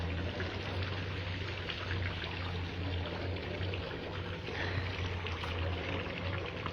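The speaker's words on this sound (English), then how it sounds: "The tank is overflowed." Water overflowing from a boat's full water tank, a soft continuous splashing trickle under a low steady engine-like hum, faint and fairly close.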